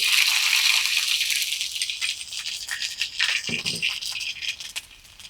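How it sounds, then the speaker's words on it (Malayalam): Dense rattling crackle of mustard seeds popping in hot oil, loud at first and gradually thinning into scattered pops. "അപ്പൊ നമ്മുടെ കടുവ് പൊട്ടി"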